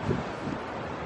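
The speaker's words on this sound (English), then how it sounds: "I'm sick and it's windy and I have to upload the video." Wind buffets an outdoor microphone in Palm Springs, a steady broadband rush with a brief gust at the start, loud and close throughout.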